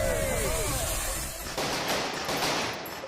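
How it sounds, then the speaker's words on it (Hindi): Cartoon firecrackers burst at a celebration, a dense, continuous crackling barrage that fills the clip, with a descending whistle early on and faint voices underneath. "यहाँ सामने आतिशबाजी हो रही है"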